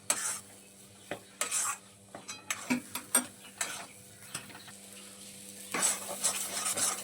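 Thick green pea paste for kachori filling being stirred continuously in a pan, a spoon scraping and knocking in an irregular series of clicks and taps over a faint sizzle, close by.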